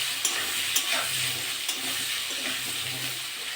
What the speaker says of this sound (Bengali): লবণ দিয়ে দেবো, ভালো করে ভেজে নেব।